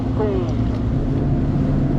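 A bass boat's outboard motor roars past at a tournament launch on Kentucky Lake, a loud, close, steady engine drone with wind and water noise, a voice faintly calling out beneath it.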